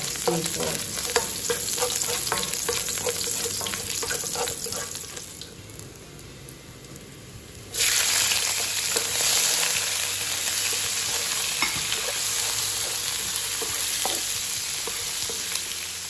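Seafood sizzling and frying in hot oil with garlic in a home kitchen pan, stirred steadily throughout, with a brief quieter dip before the loud crackle returns, no talk over it.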